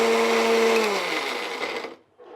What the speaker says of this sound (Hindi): और एक जार लेती हूँ, मिक्सर जार, इसे हमें ग्राइंड कर लेना है।